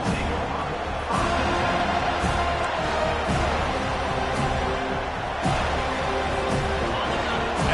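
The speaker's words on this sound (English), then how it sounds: "listen to the roar of this crowd" A stadium crowd at an American football game keeps up a steady, dense roar throughout, loud and continuous, with a few sharper swells and thumps rising out of the din.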